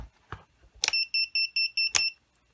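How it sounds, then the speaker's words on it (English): VIFLY Finder V2 self-powered drone buzzer on low volume, sounding a run of about six evenly spaced high-pitched beeps, framed by a couple of clicks and handling knocks, close and alone. "It's the low beeper volume."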